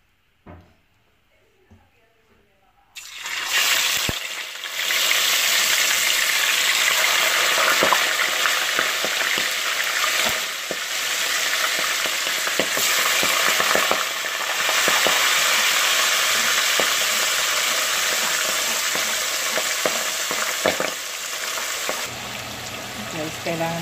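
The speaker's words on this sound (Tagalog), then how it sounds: "Atin na pong iprito ang bangus." Milkfish (bangus) dropped into hot oil after a few quiet seconds, then a loud, continuous sizzle with crackling spatters close up that carries on to the end.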